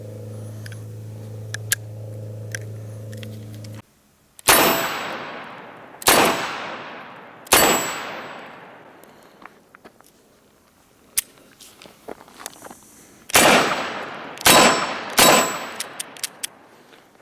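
Six or seven sharp revolver shots from a Dan Wesson 715 ring out outdoors, each followed by a bright metallic clang from steel targets and a long decaying ring, irregularly spaced, with faint clicks and handling noises between them.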